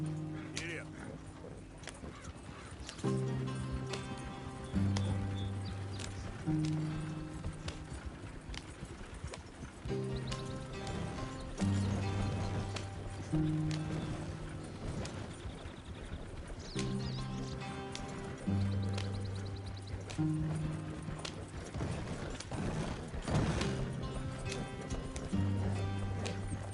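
A horse gallops in Red Dead Redemption 2, with rhythmic hoofbeat clip-clop running under a steady game music score, alongside occasional game voices.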